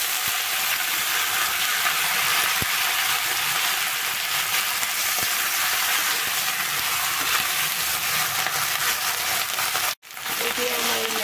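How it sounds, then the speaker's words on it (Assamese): Mustard greens (lai) frying with ginger and garlic in a pan give off a continuous bright hiss and sizzle, with a couple of faint ticks and a brief cut near the end. "এতিয়া আমাৰ লাইটো ভজা হৈ গৈছে"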